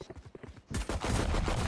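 Gunfire in the Valorant video game: after a few muffled voices and soft taps, a sudden loud burst of rapid shots erupts and keeps rattling densely to the end.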